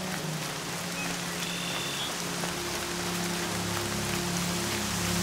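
Steady rain patters on a surface in the video game Horizon Zero Dawn, a continuous wash of drops with a low background hum running underneath throughout.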